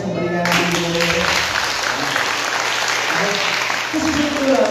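A church congregation applauds in a dense, continuous wash of clapping beneath a preacher's raised voice.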